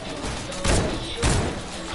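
Gunfire in a video game, two dense, heavy bursts of shots about half a second apart, loud and close over a steady background din.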